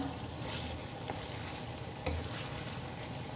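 Masala for a smoky chicken curry fries in a pan with a steady, soft sizzle, and a spoon occasionally stirs and scrapes through it, with no talk over the sound.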